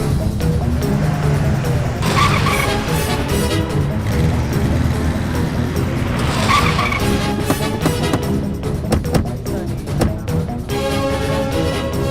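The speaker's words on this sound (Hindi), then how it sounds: "गाड़ी निकाल, जल्दी कर।" A car drives off hurriedly in a film scene, with a loud, continuous engine roar and tire noise lasting the whole stretch.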